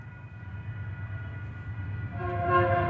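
BNSF locomotive sounding an RS3K horn: a steady rail rumble and engine drone, then a bright multi-chime horn blast enters near the end, moderately distant and growing louder.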